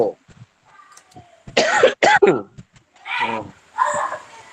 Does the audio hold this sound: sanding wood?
no